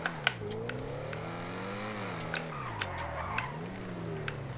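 Ocelot M4S Turbo Penetrator video game car engine revving up and down, its pitch climbing and falling in smooth sweeps with faint ticks and clicks on top, steady and moderately quiet.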